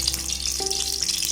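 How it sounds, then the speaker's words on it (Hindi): Ghee heating with salt in a cooking pot before popcorn kernels go in, giving a steady, close hiss and sizzle throughout, with no talking. "पतीली के अंदर डाल देते हैं घी को गर्म होने देते हैं, और साथ में डाल देते हैं नमक"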